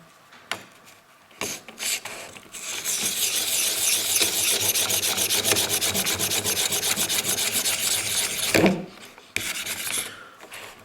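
A knife blade scrapes back and forth across a fine sharpening stone to remove serrations, making rapid, rhythmic gritty rasping strokes close up, preceded and followed by a few scattered clicks and handling knocks.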